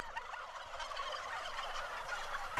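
Free-range turkeys gobble in a steady, overlapping chorus, loud and close, with repeated rattling calls from several birds filling the scene.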